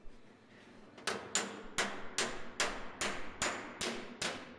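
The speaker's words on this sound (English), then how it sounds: "I'm doing a hammer on dolly to flatten that as much as possible." Evenly spaced metallic hammer taps flattening a dent in sheet metal backed by a dolly, about nine ringing strikes at a steady pace, close and clear.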